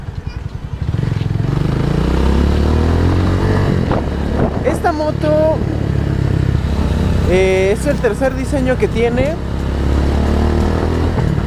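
An Italika 250Z motorcycle engine runs steadily and loud throughout, a rough low rumble with someone talking over it.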